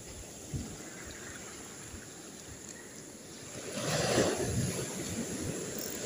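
Big ocean waves on a windy coast, with a small fishing boat out on the water, wash in as a faint broadband hiss mixed with wind noise, rising into a fuller surge of surf toward the end.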